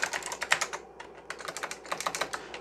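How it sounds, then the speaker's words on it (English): A computer keyboard is typed on at a vintage PC with an Amdek monitor, giving crisp, close clicks in quick irregular bursts with a brief pause near the middle. "If I can type."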